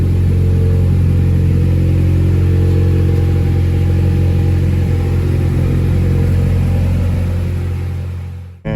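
A Honda Prelude with an F20B engine and PLM headers drones at a steady, deep exhaust note, a loud, close, continuous rumble that holds level and then cuts off abruptly at the end, with no voices.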